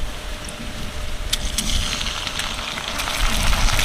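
Washed Gobindobhog rice tipped into a hot pan for a vegetarian banana-flower curry, giving a steady close sizzle and frying hiss that thickens toward the end, with a few light clinks and no talking.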